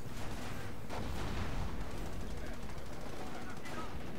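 Machine gun fire in Company of Heroes, a steady dense rattle of bursts with distant booms, heard under a talking voice throughout.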